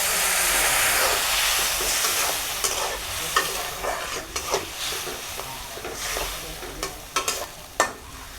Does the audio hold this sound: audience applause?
no